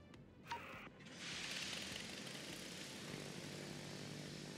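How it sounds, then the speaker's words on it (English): Carrier aircraft launching from a warship in the World of Warships naval video game: a sharp click, then a steady loud propeller-engine drone that swells and holds, close and continuous with no talk. "Launch your planes, yep."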